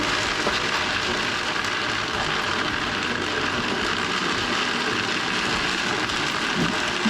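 A blender grinding nuts into nut butter at medium-low speed gives a steady, continuous whirring drone that holds an even loudness from start to finish, with no talking.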